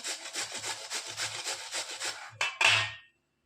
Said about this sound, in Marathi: हे बघा अशा पद्धतीने आपल्याला छानसं किसून घ्यायचं आहे